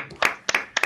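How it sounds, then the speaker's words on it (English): A few sparse claps at an academic cosmology conference session, heard as three separate pairs of sharp hand claps spaced evenly apart, close and fairly quiet. "Maybe we can give him a round of applause right now"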